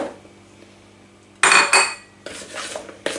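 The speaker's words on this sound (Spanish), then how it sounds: "ahora le echamos los garbanzos" Chickpeas tipped into a bowl of paste, a sudden loud rattling clatter against the bowl followed by a second burst of scraping and mixing, close and alone after a quiet start.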